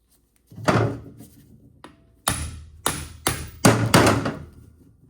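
Sharp metallic impacts ring out as screws are loosened with a hammer and impact screwdriver on a Honda GL1000's water pump, a single hit then four or five loud hammer strikes with short decaying clangs.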